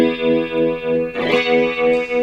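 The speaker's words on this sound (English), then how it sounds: "it sounds kind of tremolo-y actually, because we're modulating right around the 0 point" Guitar tone run through a Spectre modulation effects pedal with regeneration turned all the way down, pulsing in a steady tremolo-like throb about four times a second, a brighter strummed swell midway, loud and alone.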